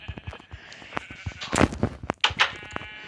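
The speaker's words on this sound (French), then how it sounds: "Vu que les moutons ne veulent pas te laisser vivre." Sheep in a survival video game bleat in several loud, wavering cries, the loudest near the end, layered over steady game background noise with no talk.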